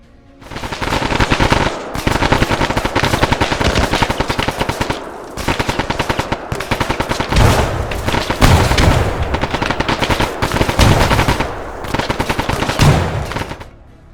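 Sustained automatic gunfire rattles through an L-shaped ambush in the military video game Arma 3, with long, loud bursts of machine-gun fire separated by brief pauses.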